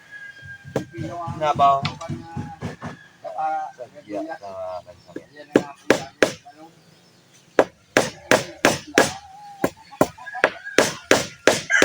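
Sharp hammer blows strike repeatedly while building a racing boat, close and loud, speeding into a quick rhythm after someone talks at the start.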